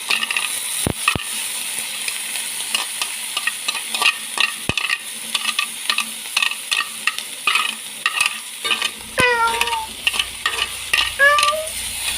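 Sabu shrimp stir-frying in a pan with green chili, a steady sizzle broken by repeated sharp scrapes and taps of a utensil, with a few squeaky clinks near the end.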